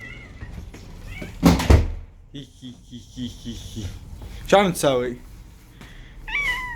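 A cat meows at a window: two clear, drawn-out meows, the second one shorter, sound close by over a dull room background, with someone speaking briefly and a couple of soft knocks earlier.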